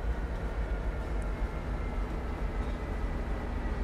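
A steady, rumbling Baby Bullet locomotive engine in Train Sim World 2 drones continuously at moderate volume while cruising, an even low hum with no voices.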